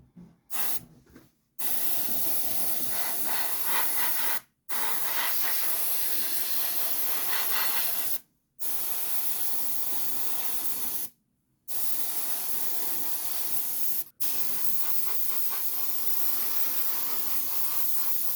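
Vallejo Surface Primer German Red Brown sprays from an airbrush onto a small Meng Spice Harvester model kit, a steady close hiss in several long bursts separated by short pauses.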